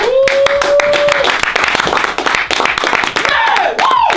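A group claps and applauds for Sean at a French subscriber Christmas gift event, with dense rapid hand claps running the whole time, loud and close, mixed with cheering voices and a whistle-like tone.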